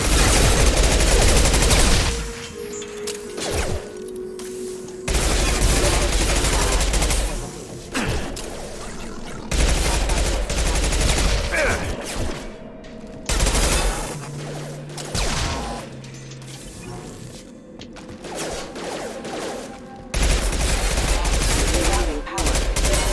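Heavy gunfire against hostile mechs in Mass Effect 2, loud sustained bursts of rapid shots and machine-gun fire broken by brief lulls, with voices calling out between volleys.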